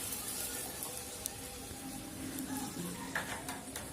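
Water poured into onion gravy sizzling in a pan for fish do pyaza, a Bengali fish curry: a soft, steady frying hiss with faint bubbling and stirring clicks, low and continuous.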